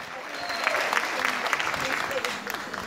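Audience applause at a Turkish folk music night honoring women efe performers, dense steady clapping that fills the whole stretch at a fairly even loudness.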